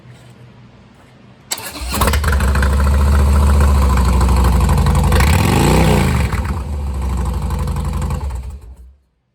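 A 2014 Harley-Davidson Softail Deluxe motorcycle starts after a moment of quiet, then settles into a loud, steady, deep idle close by with a brief throttle blip in the middle before cutting off.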